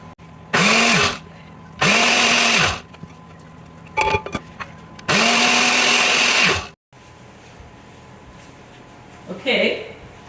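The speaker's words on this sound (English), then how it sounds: "And then blend them until they're pureed." Countertop blender pureeing apples for homemade muffins: three loud, close whirring bursts of one to two seconds each with short pauses between, then quieter clatter at the end.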